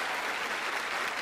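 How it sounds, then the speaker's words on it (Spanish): Brief burst of dense studio audience applause on a comedy talk show, loud and continuous for about a second. "Ahí tiene usted los aplausos que se ha ganado."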